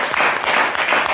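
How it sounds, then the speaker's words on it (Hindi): Audience applause at a Milifestyle NTC gathering in Aligarh, steady dense clapping from a crowd filling the short moment without talk. "मैं चाहता हूँ एक बार जोरदार तालियां होनी चाहिए।"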